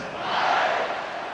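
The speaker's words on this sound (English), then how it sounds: "this crowd is buzzing after that last score" Simulated stadium crowd in a college football video game, a steady broad roar that swells slightly mid-way then holds, loud and continuous with no distinct voices.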